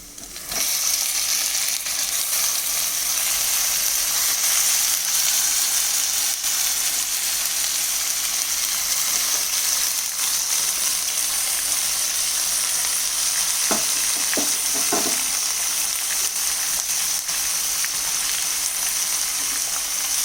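Pork sizzles loudly in a pan of deeply browned onions for a Goan vindaloo, a steady close frying hiss with a few brief scrapes of stirring midway.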